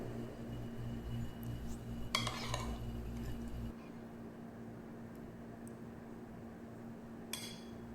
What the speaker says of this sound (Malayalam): എന്നിട്ട് എല്ലാം കൂടി മിക്സ് ചെയ്തെടുക്കുക.